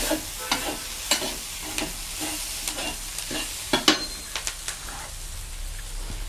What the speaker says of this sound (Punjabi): ਲਸਣ ਦਾ ਪੇਸਟ ਦੋ ਮਿੰਟ ਇਹਦਾ ਗੇੜੇ ਦੇ ਕੇ